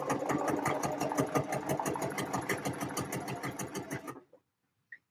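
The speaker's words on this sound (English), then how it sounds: "Lost where I am in the seam and just backstitch randomly, like half an inch in." A sewing machine stitches a seam with backstitching, a close, steady rapid motor-driven chatter lasting about four seconds before stopping abruptly, followed by a brief faint click.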